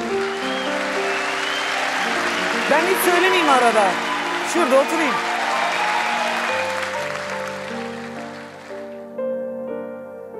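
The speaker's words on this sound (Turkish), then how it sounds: "Sevgili Can'a da alkış gelsin." A television studio audience at an arabesque music night applauds under a sustained musical backing, while someone speaks over the clapping before the music carries on alone.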